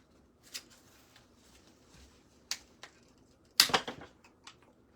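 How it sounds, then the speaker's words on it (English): Knipex cutters snip through floral stems for a fall swag, giving a few sharp, close clicks and snaps spaced across a quiet background, with one louder crunchy cut near the end. "I'm going to cut these off."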